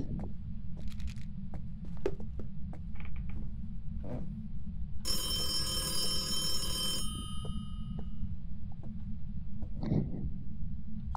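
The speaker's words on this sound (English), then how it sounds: "The phone's ringing!" A telephone bell rings in the Phasmophobia ghost-hunting game, a loud metallic ring lasting about two seconds amid a steady low hum and scattered faint clicks and knocks.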